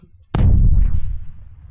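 A warship's shells in Space Engineers collide and explode in one sudden loud blast, a sharp crack giving way to a deep rumbling boom that tails off over about a second.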